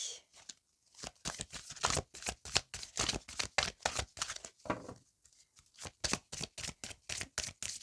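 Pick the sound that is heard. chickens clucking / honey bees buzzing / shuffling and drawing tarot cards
shuffling and drawing tarot cards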